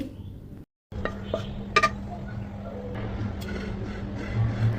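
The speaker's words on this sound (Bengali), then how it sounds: "এখন এই পেঁয়াজ রসুনগুলো আমি আবারও ওই পাত্রেই ঢেলে নিব" Fried onion and garlic pour into a vessel with light clinks and scrapes of a utensil against the dish, a few brief metallic taps standing out over a low kitchen hum.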